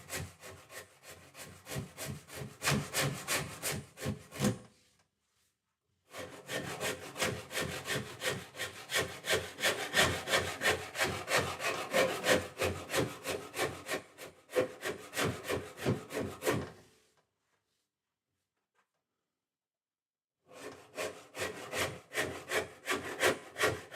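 Wooden Telecaster guitar body being shaped with a bevel by hand, rapid rhythmic rasping strokes in close bursts separated by short silent pauses.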